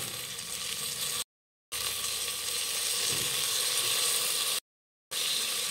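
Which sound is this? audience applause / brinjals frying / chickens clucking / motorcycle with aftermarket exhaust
brinjals frying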